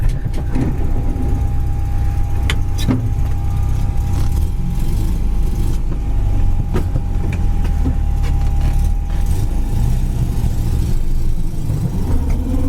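A 1952 Buick Skylark cruising down a highway, its engine a steady low drone with road and wind rumble, recorded from inside the car, with a few brief clicks and knocks along the way.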